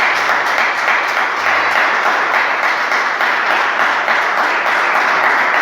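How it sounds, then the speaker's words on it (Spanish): A church congregation applauds in praise, a dense, steady wash of many hands clapping together that fills the room evenly for several seconds with no voices on top. "¿Cuántos se animan a dar un aplauso de alabanza?"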